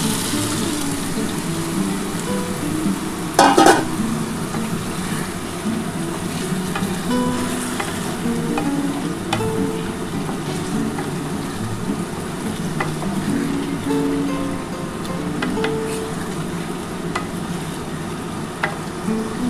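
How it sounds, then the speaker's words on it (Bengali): Spiced water poured into a pan of frying rui fish curry, a steady close sizzle with spoon-stirring scrapes and a brief louder splash near the start, continuing for a long stretch without talk. "এবার আমি এই যে মশলার জলটা দিয়ে দিচ্ছি।"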